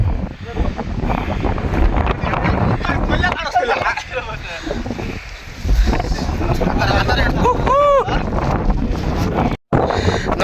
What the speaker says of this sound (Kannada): ಗಾಳಿ ತಳ್ತಾ ಇದೆ ಹೆಂಗೆ